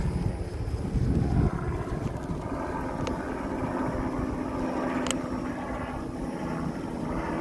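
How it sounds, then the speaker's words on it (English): A helicopter approaches over the beach at E.G. Simmons Park in Florida, heard as a steady, distant rumbling drone blended with wind noise, with no talking. "And we got the helicopter coming."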